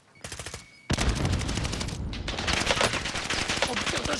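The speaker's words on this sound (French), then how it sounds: "On me tire dessus, là!" Rapid gunfire rattles in a Call of Duty Warzone match, a few quick shots followed by sustained, loud automatic bursts that fill the rest of the moment.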